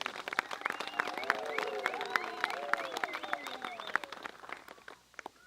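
A crowd at a 2017 Old Mutual Zimbabwe awards dinner bursts into steady applause and cheering, sustained clapping with excited voices, fading off toward the end.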